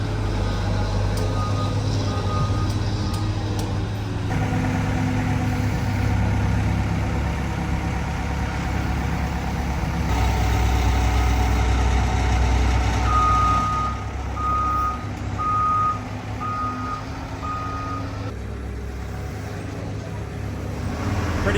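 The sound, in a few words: giant forklift engine and reversing beeps while unloading a car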